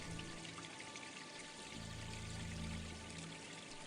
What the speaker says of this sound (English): A crystal clear stream flows through it. Its gentle murmur a soothing lullaby.